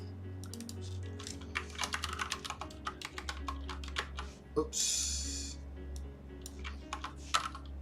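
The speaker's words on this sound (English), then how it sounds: "This Moonlander keyboard is great, but sometimes it trips me up." Rapid clicking keystrokes on a Moonlander split mechanical keyboard, close and steady with bursts of fast typing and a brief pause, while a voice speaks over it.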